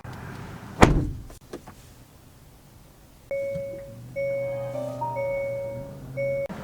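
A 2022 Hyundai Tucson Hybrid car door shuts with one sharp, close thud, followed by a few faint clicks and then a steady tonal chime that stops and restarts.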